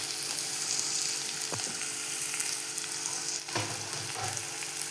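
Large-cut onion and green chilies frying in a pan for a spinach dish, a steady low sizzle throughout with a few faint utensil knocks, no voices.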